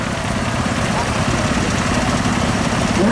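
A compact agricultural tractor's engine running steadily at an autumn show arena, a loud continuous low diesel drone with slight vibration and no break for the full length.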